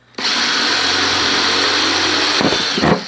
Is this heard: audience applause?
no